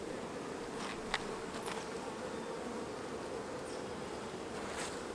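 Honey bees buzzing from an open hive during a colony split, a continuous dense drone of many insects with a few individual bees passing close, steady throughout with no talk.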